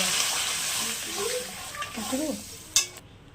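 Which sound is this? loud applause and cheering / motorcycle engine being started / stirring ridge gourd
stirring ridge gourd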